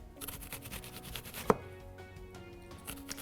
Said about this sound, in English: So I'm going to slice some nice red onion